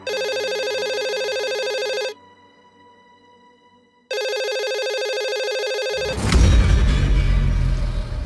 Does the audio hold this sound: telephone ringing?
yes